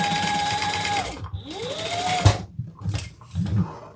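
A domestic sewing machine runs in short stitching bursts as it crosses a seam instead of backstitching, with pauses and small mechanical clicks between runs.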